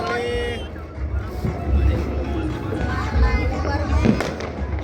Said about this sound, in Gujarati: ભાઈ સાંજ પડી ગઈ એટલે હવે બધા ફટાકડા ફોડવા બેઠા.